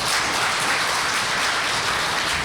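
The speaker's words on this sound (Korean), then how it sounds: "큰 박수로 맞이해 주시기 바랍니다." Big applause from a seated audience at the opening of an energy future forum, greeting the forum's representative. Dense, steady clapping fills the whole stretch at even loudness, with no voices.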